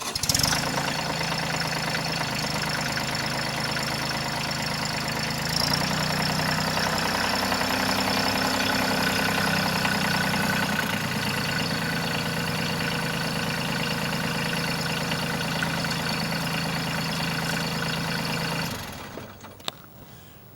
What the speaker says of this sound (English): I'll start it, we'll drive it in here, and we'll put it right back on there again.